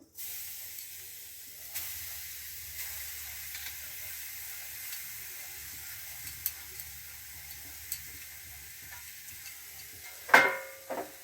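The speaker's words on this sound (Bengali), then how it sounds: "আমি এবারে নারকেল কুড়াটা কড়াইয়ের মধ্যে দিয়ে দেবো।" Grated coconut fries in a hot wok over a gas flame as a soft, steady sizzle, with a brief louder stir or scrape near the end.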